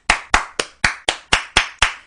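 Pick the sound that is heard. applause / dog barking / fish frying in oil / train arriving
applause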